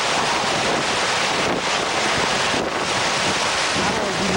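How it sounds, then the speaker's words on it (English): Roaring 140 mph hurricane winds of Hurricane Katrina, a loud, continuous rushing blast with buffeting on the microphone and stronger gusts surging through, with no voices. "listen at what 140-mile-an-hour winds sound like"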